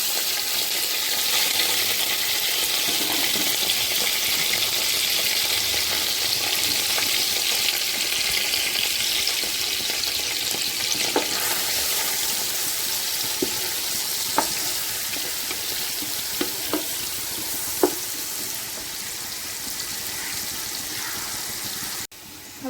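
Chopped onions fry in a pan after fenugreek seeds have popped, giving a continuous close sizzle with occasional stirring clinks and taps, and no talk.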